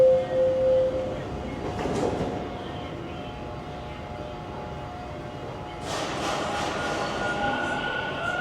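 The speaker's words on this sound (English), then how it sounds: "Old Mill subway station here." Subway train at Old Mill station in Toronto on a cold winter day, a steady rolling rumble with a faint wheel squeal tone and a louder burst of rushing noise near the end, no talk.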